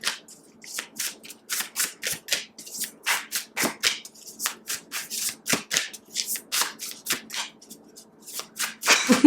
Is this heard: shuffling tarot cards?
yes